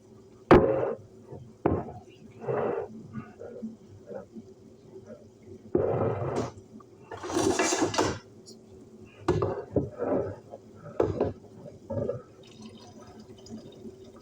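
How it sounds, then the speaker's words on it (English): Cooked spaghetti noodles being drained from a metal pot, heard as scattered clanks and scrapes of the pot with short bursts of pouring, splashing water, fairly close, with quiet gaps between. "Now, I'm going to drain the noodles."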